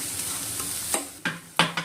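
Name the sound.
stirring turmeric into cooked bamboo shoot stir-fry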